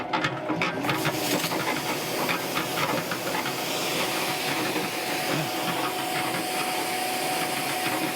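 A pressurized spray of water hisses steadily inside a homemade root vegetable washing machine, a dense, continuous rushing spray that runs without a break and stays fairly loud and close.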